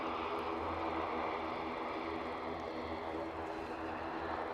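An aircraft departs Aberdeen for Kirkwall, its engine a faint, steady distant roar that persists throughout with no talk.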